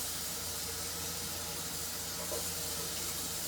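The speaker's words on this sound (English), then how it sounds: "I'm just trying to rinse this pan so I can make George his dinner" Water from a running kitchen faucet rinses a pan in the sink, a steady broadband rushing hiss that stays constant and close throughout, with no speech.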